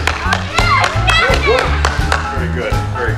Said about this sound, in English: I want to give the audience an applause here.